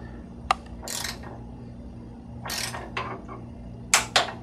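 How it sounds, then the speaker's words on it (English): A torque wrench tightening bicycle stem bolts, giving several short metallic ratchet clicks and brief grinding turns in separate bursts, close and fairly quiet with no talk. "so I've already adjusted my torque wrench, and off we go on this."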